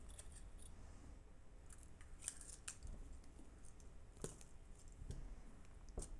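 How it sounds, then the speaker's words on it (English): Flush cutters snipping jewelry wire for wire-wrapped earrings, a few sharp, faint clicks over quiet background hiss, spaced a second or two apart. "you're going to go ahead and cut 18 inches of wire"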